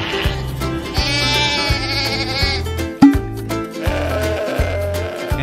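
A bighorn sheep bleats in a cartoonish farm diorama scene, a drawn-out nasal cry rising over bouncy background music with a steady thumping beat.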